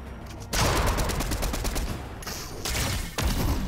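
Rapid bursts of gunfire from the Fortnite video game start after a brief quiet moment, loud and dense, with short gaps between the volleys and no talking.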